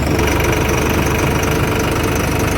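A tractor engine idles, one of several tractors hauling trolleys to a sugar mill, giving a steady, loud, close diesel rumble with a knocking throb throughout and no voices.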